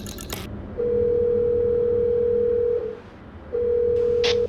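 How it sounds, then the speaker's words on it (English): A phone line tone sounds over a quiet room: two long, steady, loud electronic tones separated by a short gap, with brief clicks at the start and a burst of noise near the end. "And the phone started to ring."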